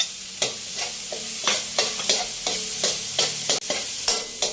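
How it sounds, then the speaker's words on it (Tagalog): Tomatoes added to browned garlic in a hot pan for binagoongang baboy, with repeated rhythmic scraping stir strokes over a steady close sizzle. "Ganitong kulay yung bawang natin, yung medyo brown siya. Sundan natin yung ating kamatis."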